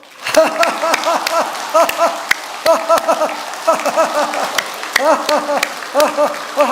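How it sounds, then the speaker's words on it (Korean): Korean church congregation at a Sunday service clapping loudly in a steady rhythm while laughing together, voices rising in bursts of laughter over the sustained applause. "지금부터 여러분이 크게 10초 동안 박수 치면서 웃기를 시작합니다"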